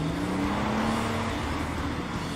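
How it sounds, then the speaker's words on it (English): Car engine noise, a steady droning hum with a faint rising tone, held continuously at moderate loudness with no talking over it. "Car noises, because we're men."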